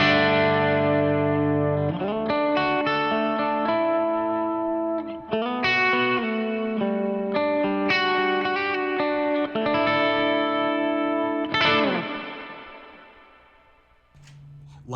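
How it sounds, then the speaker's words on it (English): An electric guitar plays chords through a medium hall reverb pedal with a 3.6-second decay, distorted and chorused, each strum ringing out into a lingering wash that fades away alone at the end. "Next is a medium hall reverb."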